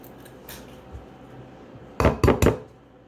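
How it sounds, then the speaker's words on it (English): Utensil clattering against a bowl while eggs are mixed for scrambled eggs with turkey bacon, a few soft scrapes followed by three sharp, close clinks in quick succession near the end, with no talking. "Try to mix my egg up."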